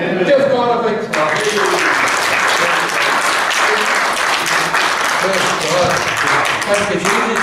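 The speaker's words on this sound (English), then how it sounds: "Give God a big clap." After a sermon a church congregation breaks into loud, dense clapping that follows a brief spoken line at the start and then carries on steadily, with voices faintly mixed in.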